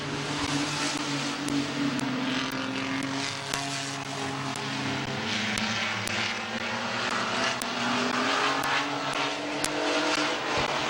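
Race trucks circle the Midvale Speedway track during a heat race, a continuous loud engine drone with a steady mechanical whine and regular sharp ticks, unbroken and with no voices.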